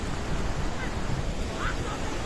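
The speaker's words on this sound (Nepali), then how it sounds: "खोला हेर्नु गाइस खोला।" A flooded river rushes in a steady, loud roar of churning water that runs without a break.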